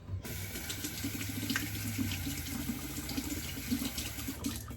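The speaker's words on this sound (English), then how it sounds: "A little bit more warm water." Warm water runs steadily from a bathroom tap into a sink during a shave, a constant soft splashing hiss lasting throughout with no talk.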